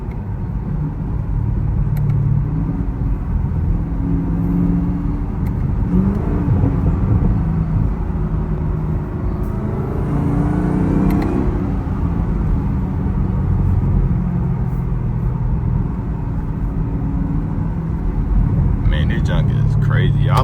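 Camaro ZL1 driving in foggy weather, a loud steady engine drone and road rumble heard from inside the car, continuous for the whole stretch with a faint rise in the middle.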